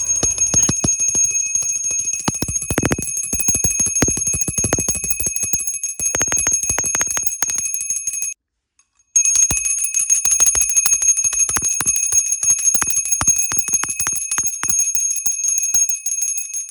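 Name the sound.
puja hand bell ringing during Hindu worship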